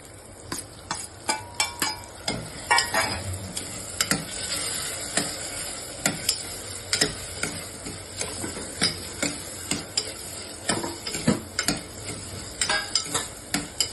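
Tomatoes fry in a masala for dal with a steady sizzle under repeated sharp clicks and taps of a spoon against the pan, arriving in a quick, uneven rhythm throughout.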